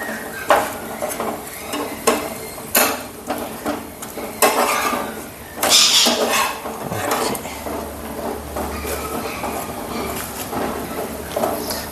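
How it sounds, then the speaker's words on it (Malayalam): Chapati cooking in a pan with oil: scraping and stirring clatters against the pan recur every second or two over a soft continuous sizzle, with no talking. "ഒരു ചപ്പാത്തി ഇട്ടിട്ടുണ്ട്. അതിനകത്ത് ആവശ്യത്തിനുള്ള എണ്ണയുണ്ട്."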